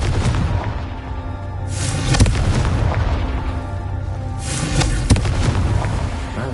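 A fiery Confringo blast spell from Hogwarts Legacy, sounding as two loud booming explosions a few seconds apart over a continuous low rumbling game background.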